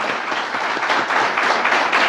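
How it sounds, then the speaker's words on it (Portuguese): A church congregation breaks into applause for Jesus, a dense, even wash of many hands clapping, close and sustained for a couple of seconds with no voices on top. "Vamos dar uma salva de palmas para Jesus."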